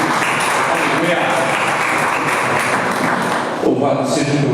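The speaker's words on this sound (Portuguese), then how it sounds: "Você pode aplaudir ao Senhor, acreditando que Ele está cuidando de você?" A church congregation claps together in steady, dense applause. It is loud and close, fills the whole moment and fades slightly at the end.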